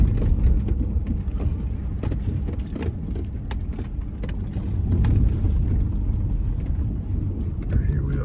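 A car driving on a road near Lake Mead produces a constant low interior rumble of road and engine noise, with keys jangling and rattling throughout, close and loud.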